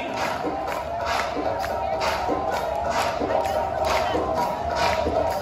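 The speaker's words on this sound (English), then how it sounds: "Somebody scream! Clap those hands to the beat." Crowd at a New Year's Eve celebration at Disney Springs, ringing in 2023, screaming and clapping together; a dense, steady roar of many voices with rhythmic claps beating through it at a regular pace.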